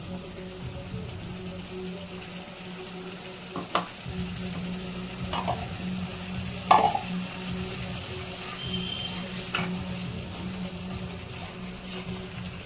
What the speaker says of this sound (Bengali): মশলা ধোয়া বাটি দিয়ে একটু জল দিচ্ছি মশলাটা কষানোর জন্য